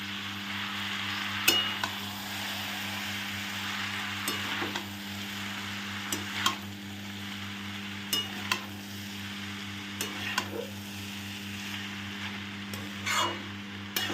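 Boiled chow mein tossed into a pan and stir-fried, a steady low sizzle with scattered clinks and scrapes of stirring against a constant background hum.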